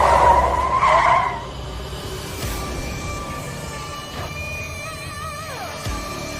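A car brakes hard and skids to a sudden stop in a dramatized effect, with a loud burst of squealing tires up front that fades into a lingering ringing tone and a descending whine.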